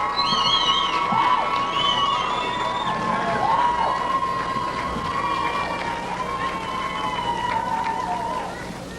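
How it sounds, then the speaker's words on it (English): At a pastors' conference, a big church congregation keeps up a steady roar of cheering and shouting for their preacher, with high whoops rising above the crowd before it eases off slightly at the end. "They're cheering their preacher."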